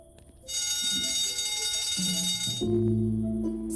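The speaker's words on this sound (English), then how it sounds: "Shouldn't you do something about that alarm?" A steady electronic alarm rings continuously in a video game, loud and unbroken for about two seconds, with game tones and effects sounding underneath.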